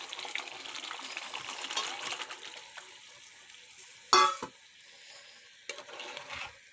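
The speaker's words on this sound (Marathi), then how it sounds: "आता आपण पाणी घालून घेऊ" Potatoes in hot oil sizzle steadily in a pan, then water splashes in with a sharp hiss and bubbling, followed by a smaller second pour.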